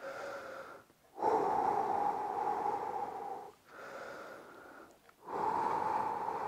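Heavy, rhythmic breathing during an at-home workout: long, forceful inhales and exhales close to the microphone, separated by brief pauses, with a wheezy, snorting edge.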